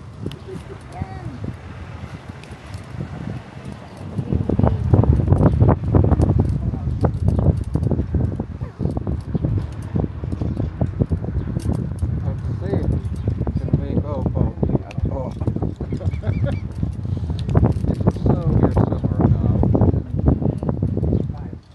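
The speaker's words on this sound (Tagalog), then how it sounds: "So windy here." Gusty wind batters the microphone outdoors at a windy spot by the water, a heavy rumbling roar that strengthens after a few seconds and persists, with people talking intermittently underneath.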